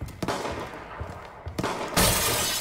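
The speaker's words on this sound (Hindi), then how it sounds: "चल गए बेटा गोलियां" Gunfire from the PC shooter Far Cry 5: several sharp shots burst out in quick succession, ending in a louder sustained volley, with no talking over it.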